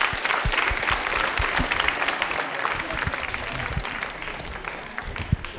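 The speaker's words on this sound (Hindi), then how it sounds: "तन्मय के लिए तालियां हो जाए" An audience gives loud, sustained applause for a correct answer at a quiz event, the clapping steady and dense throughout with scattered sharper claps standing out.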